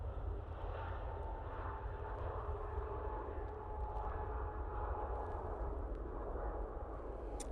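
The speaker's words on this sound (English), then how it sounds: "There goes another Ryanair." A Ryanair airliner departing Manchester Airport for Barcelona gives off a faint, distant engine rumble, a steady low drone with a thin whine riding above it and no voices.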